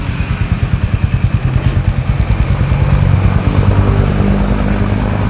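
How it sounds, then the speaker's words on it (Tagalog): Motorcycle fitted with a 304 stainless exhaust pipe, the engine puttering in a close, loud, rapid idle pulse, then swelling into a steadier, heavier rev. "Yan po yung pinaka sound check ng apido natin."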